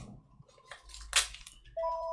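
A phone starts ringing in a workshop during a MacBook Pro keyboard repair, its steady electronic tone cutting in near the end after some faint handling noises and a brief crinkle.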